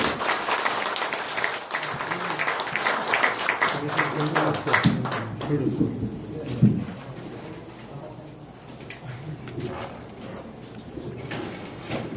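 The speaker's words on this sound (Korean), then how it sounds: "박수로 박세당 선생님 맞이해주십시오" Audience applause greeting a lecturer at a history seminar, a dense burst of many hands clapping at moderate loudness that thins out toward the end.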